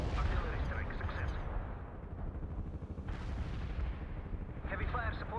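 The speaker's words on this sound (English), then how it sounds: "We can deploy and lay down a heavy barrage. Commencing the barrage." An artillery barrage in the World in Conflict video game pounds continuously as dense, rumbling booms and blasts that stay fairly faint and distant, with a voice speaking over parts of it.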